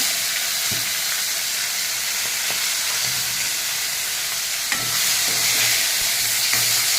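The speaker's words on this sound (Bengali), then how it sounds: "এটা একসঙ্গে আমি ভেজে নেব মাছের মাথাটাকে" Hilsa fish head frying with taro leaves in oil tempered with dried red chillies, bay leaves and panch phoron, giving a steady, close, dense sizzle with a few soft stirring knocks and no talk.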